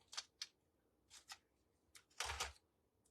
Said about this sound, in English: A little pair of scissors.